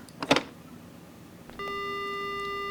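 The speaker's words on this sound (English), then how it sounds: "The phone begins to ring." A phone ringing in the horror game Death Mark, a sustained electronic ring tone that starts partway through and holds steady after a brief earlier rustle, with no talk.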